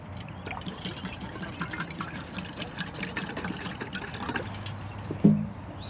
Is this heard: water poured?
yes